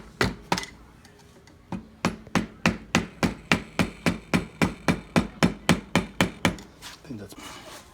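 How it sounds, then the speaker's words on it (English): A rubber mallet taps a part tight during a wastegate repair on a Mazda RX-8 with a 13B REW rotary engine. About twenty evenly spaced, fairly soft thuds ring out in a steady rhythm, close by. "Where's the rubber mallet?"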